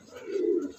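Racing pigeon from a Kanaka line cooing close by, a single soft, low, rising-and-falling coo under a second of quiet room noise.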